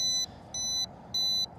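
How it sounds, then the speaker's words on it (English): Three short, evenly spaced high-pitched electronic beeps from a Veeniix V11Air drone connecting to its controller sound faintly against a low steady hum. "it's beeping saying it's trying to connect"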